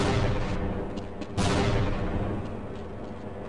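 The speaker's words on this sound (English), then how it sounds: "I'm gonna throw all my grenades." Grenades explode in the shooter game Half-Life as a dense, rumbling roar with a sharp, loud blast partway through that slowly fades out.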